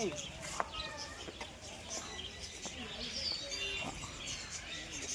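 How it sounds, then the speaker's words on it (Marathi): Birds chirping and calling in an aviary at a zoological park in Tirupati, scattered tweets and short calls at a moderate distance, with people talking quietly between them. "तिथं पक्षी आहे"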